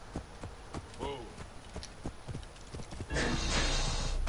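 Horse hooves clip-clop in Assassin's Creed Origins on PS4 Pro, a steady run of near hoofbeats with a brief whinny early on, then a loud broadband rush of ambient game noise takes over in the last second.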